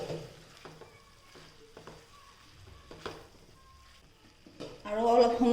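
Bamboo shoot bhaji fries in a pan with a quiet, intermittent sizzle and soft clinks of stirring, rising to a louder burst of sizzling at the end.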